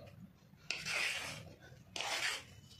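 A knife slices through soft steamed dhokla in two short scraping strokes, each a brief rasping rub against the tray, close and fairly quiet with a pause between them.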